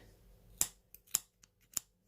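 Scissors snipping during a beard trim, three sharp metallic cuts spaced about half a second apart with fainter clicks between, close and fairly quiet, no talking.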